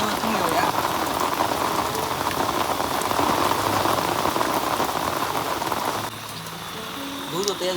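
Heavy monsoon rain pours down near a hut by Kondeshwar Temple in Badlapur, a loud, dense and steady hiss of drops striking surfaces close by, easing slightly in the final seconds.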